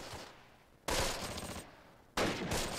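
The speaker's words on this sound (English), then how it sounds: "This is the American artillery coming in to hamper my effects of my attack" Artillery fire in the Close Combat WWII war game, Panthers in the Fog, at Pontaubault: two sudden loud bursts of rumbling, crackling explosions, each sustained for about a second, separated by a quieter stretch of distant rumble.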